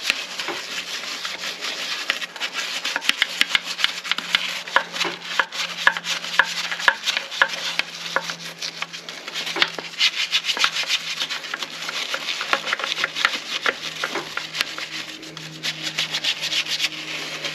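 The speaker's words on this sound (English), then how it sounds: "All we're doing is agitating that stuff around there, just scratching it in there." A brush scrubs cleaner into a car wheel caked with brake dust, making a steady, close, fast scratchy rubbing with quick repeated strokes that continue throughout.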